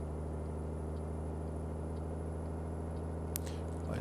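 A Kenworth T2000 truck with a 750 hp engine, driven in Euro Truck Simulator 2, hums in a low, steady idle drone, with a brief click near the end.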